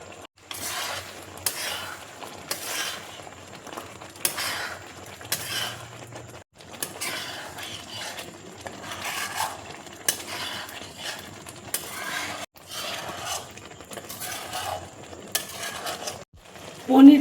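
Paneer stirred in a pan with fried spice mix added, giving a steady run of scraping, clinking spatula strokes against metal with a light sizzle underneath, repeated rhythmically at close range.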